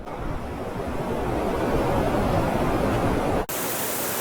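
Phagua waterfall pours from a cliff about 30 m high above a road, a dense, steady roar of falling water that holds loud and constant, then cuts off abruptly near the end with a brief dropout before the rush resumes.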